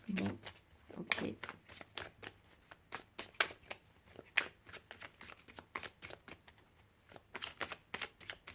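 Tarot cards are shuffled in repeated riffling and slapping bursts through a quiet room, soft and close, with brief pauses between handfuls.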